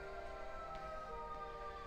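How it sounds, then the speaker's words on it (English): A siren passing down a residential street, heard faint and distant as a steady wailing tone with no talk over it. "I had sirens go down my street"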